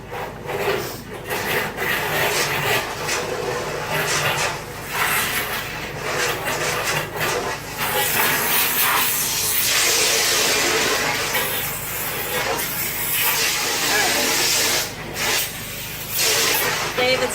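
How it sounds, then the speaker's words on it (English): A pressure washer sprays nearby, a steady broad hiss and rushing spray that swells and fades in the background while people talk over it in a home kitchen. "David's pressure washing."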